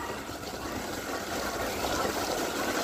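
Water from a supply tank pouring and filling near a railway station, a continuous rushing, trickling wash that stays steady and fairly close throughout.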